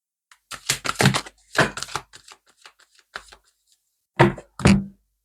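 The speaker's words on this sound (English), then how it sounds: "I've forgotten how big this deck is to shuffle in my hand" A large deck of cards shuffled by hand, with bursts of riffling and slapping separated by pauses, close and fairly crisp.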